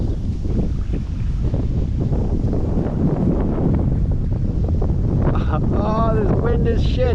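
Strong gusty wind buffets the microphone beside a trout stream, a loud continuous roar throughout; near the end, faint sounds that may be a voice or a bird rise over the rumble.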